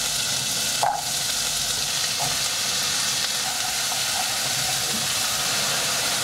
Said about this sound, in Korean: 치킨과 나머지 야채들도 볶아주세요.